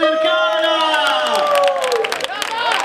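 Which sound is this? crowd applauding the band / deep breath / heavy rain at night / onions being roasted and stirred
crowd applauding the band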